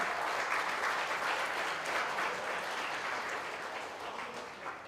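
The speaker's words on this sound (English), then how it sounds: "Round of applause for the finalists," Audience applause for the finalists of a 10-ball pool championship final, a steady, dense round of clapping that holds at full strength for the whole stretch before easing off slightly near the end.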